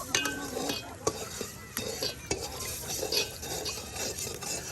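Rice and lentils are washed by hand in a pot, giving a steady close wet swishing and rubbing with scattered small clinks throughout, and no talk.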